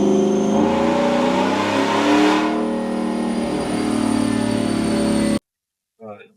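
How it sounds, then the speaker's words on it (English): A 2019 Ford F-150 engine revving hard on a dyno, a loud sustained pull with rising engine tone that cuts off abruptly, followed by a brief voice. "So we got this 2019 F-150 here on the dyno."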